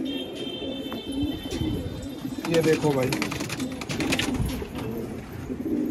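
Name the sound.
crested pigeons cooing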